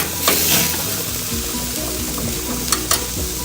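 Ribeye steaks sizzle on a grill in a steady, close crackling hiss, with a few sharper pops and spits standing out near the start and end.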